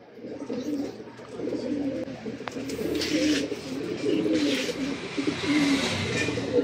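Racing pigeons coo steadily at the loft, low rumbling calls overlapping and repeating close by, with faint background noise and no clear talk.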